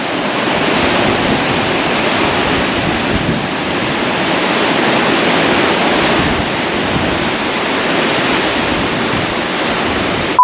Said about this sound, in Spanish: Nos gusta mucho que todo el día se ve y se escucha el mar.